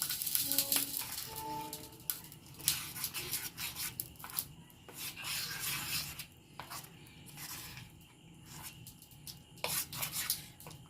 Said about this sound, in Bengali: চলুন এরপর আমি এই চাটনিটার মধ্যে সর্ষে আর কারি পাতার ফোড়নটা দিয়ে দেবো। এটা ভালো করে মিশিয়ে নেব।